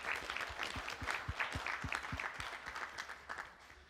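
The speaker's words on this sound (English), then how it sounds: "let's give her a round of applause for that" Audience applause at a Los Angeles affordable housing forum, steady moderate clapping from a crowd heard at some distance, fading slightly toward the end.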